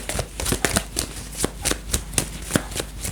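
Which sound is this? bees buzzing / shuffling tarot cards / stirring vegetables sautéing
shuffling tarot cards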